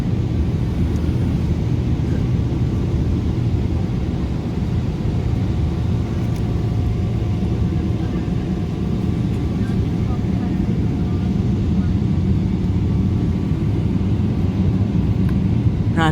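A Boeing 777 airliner on a steep departure from Istanbul gives off a steady, loud low jet-engine roar that runs unbroken throughout, with no talk over it.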